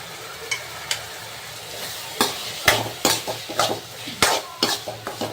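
Turmeric is stirred into sautéed tomatoes in a pan for fish gravy, with a soft sizzle beneath repeated spoon scrapes and knocks against the metal, close and irregular, without speech.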